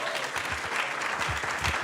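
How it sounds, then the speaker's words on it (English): Lively audience applause for performers at a casting directors' talk on self-tape tips, a dense steady clatter of many hands clapping with some faint voices mixed in. "let's give them another round of applause"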